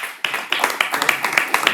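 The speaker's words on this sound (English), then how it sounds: "So I want a big round of applause to all of you." Scattered hand claps at an IIT alumni talk ring out as a brief, uneven patter of individual claps, sharp and fairly close, rather than a full roaring ovation.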